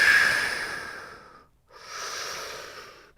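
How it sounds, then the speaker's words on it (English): Two long, airy breaths during a downward dog yoga pose in a martial arts class, a sustained exhale followed by a brief pause and a second steady breath, close and fairly soft with no talking. "Couple deep breaths."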